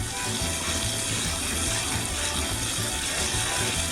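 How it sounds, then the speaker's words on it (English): Tap water runs steadily over drained pasta in a colander, a continuous close splashing hiss with no pauses, loud and alone throughout. "First you drain the pasta, and you give it a good old rinse."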